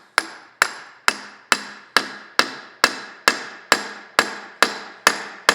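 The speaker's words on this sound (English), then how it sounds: "you may have to tap it a little bit because the pulley's on there so tight" Sharp hammer taps knocking a tightly seated pulley off a Sellers 6G drill grinder during disassembly: about a dozen evenly spaced, ringing metallic strikes roughly every half second, close and loud with no talk.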